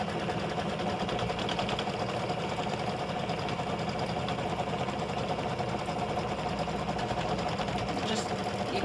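An embroidery machine stitches a tack-down pass on fabric for an in-the-hoop mug rug, giving a steady, continuous mechanical whir with a rapid needle rhythm at moderate distance, running unbroken throughout.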